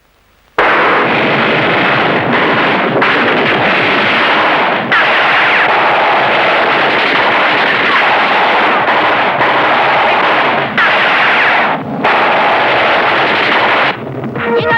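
Gunfire in a Bollywood action thriller shootout between police and gangsters, a loud, dense barrage of shots and blasts that runs almost continuously with only brief gaps.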